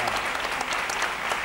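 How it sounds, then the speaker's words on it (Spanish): A crowd claps loudly and steadily, a dense continuous burst of applause filling the room with no pauses. "un aplauso así de fuerte"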